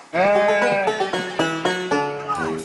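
Lambs bleat in a string of loud, close, wavering cries, several overlapping calls in quick succession with no talk.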